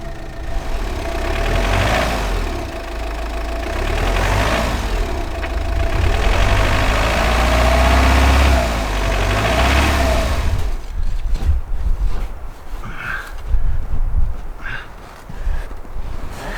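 A vehicle engine roars loudly in second gear at full throttle, straining continuously for about ten seconds before dropping to a rougher, lower rumble with scattered knocks.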